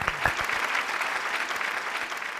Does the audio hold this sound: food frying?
no